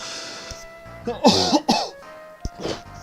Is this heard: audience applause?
no